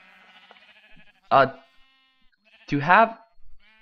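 Two distinct sheep bleats from the Minecraft game, one short and one longer, each clear and close, with quiet background between them.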